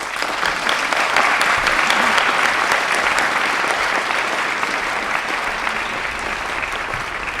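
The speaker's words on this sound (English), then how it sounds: "Shall we just give our three campaigners another round of applause?" Sustained, even audience applause at a Green Party manifesto launch in the Wakefield District, a thick clapping wash that holds steady and eases slightly toward the end.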